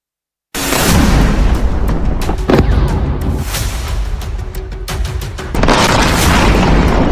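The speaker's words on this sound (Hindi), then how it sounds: "दक्षिणी ईरान के कई सैन्य ठिकानों पर ताबड़तोड़ एयर स्ट्राइक शुरू कर दी।" Heavy explosions from airstrikes on Iranian military bases boom loudly and continuously, one blast rolling into the next with sharp cracks layered over a deep rumbling roar.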